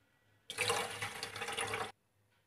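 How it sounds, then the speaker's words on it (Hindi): Water poured in one steady stream into a pot holding sugar for a sugar syrup, a loud continuous splashing rush lasting about one and a half seconds that then stops abruptly. "और इसके बाद हम शामिल करेंगे पानी"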